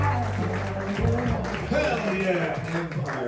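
Audience at Empire Comedy Club applauding and cheering for a comedian on a sold-out Saturday night, a dense steady wash of clapping mixed with music and shouts that holds for the whole stretch.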